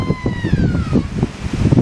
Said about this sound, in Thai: ฟ้าฝนกำลังมาลมแรงครับ